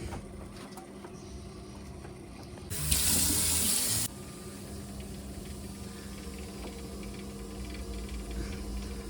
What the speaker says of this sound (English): Let's give the hot water a test.